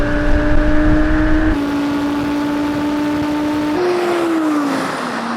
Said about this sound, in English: just the pickup of this V10 is insanely good, isn't it?